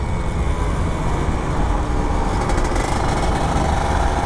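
An older Kawasaki Ninja RR 150 two-stroke motorcycle after servicing, with a slightly held-back throttle response, idles and revs in a steady, buzzing, close-up drone that stays constant throughout.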